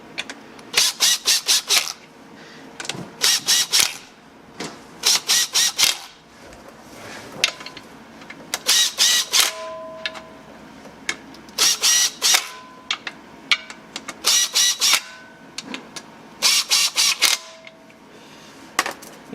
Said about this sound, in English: So we are actually going to use our little impact to get the bolts snugged up